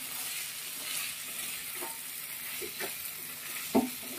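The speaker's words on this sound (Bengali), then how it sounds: "ভালো করে এবার ঢাকনা খুলেছি, কষিয়ে নেবো" Spice paste for a thin summer fish curry with ridge gourd and eggplant sizzles steadily in an uncovered pot, a continuous close fry with a few soft stirring scrapes and one sharp clink near the end.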